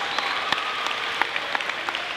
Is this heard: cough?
no